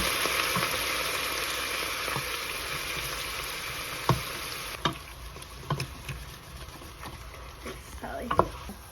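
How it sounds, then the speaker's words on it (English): Wine bubbling and sizzling in a pot while deglazing for pot roast, a steady broadband hiss with occasional sharp scrapes of a utensil against the pan bottom, close and continuous with no talk. "So I'm going to let it come to a bubble and then scrape the bottom of the pan."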